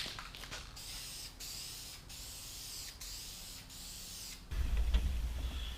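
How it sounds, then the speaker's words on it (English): Spray can of Duplicolor charcoal gray paint coating a truck dashboard part, several close, hissing bursts separated by short pauses, followed by a louder low rumble near the end. "put a final coat of paint on it"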